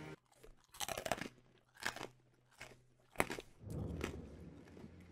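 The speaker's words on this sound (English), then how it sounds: "it is like you're crunching right in the mic" Loud, close crunching of a pretzel being bitten and chewed, several crisp bursts in an uneven rhythm ending in a longer grinding chew, with no talking.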